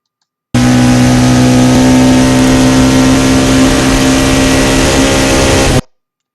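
On-board engine of a Caterham 620 CSR at the Monza chicane: a loud, close, sustained engine roar at steady high revs starts abruptly and holds for about five seconds before cutting off.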